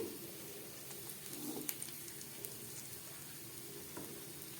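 Tomatoes frying in a pan with onion and garlic for a spicy bori curry, giving a steady soft sizzle throughout, close and fairly quiet, with occasional faint stirring.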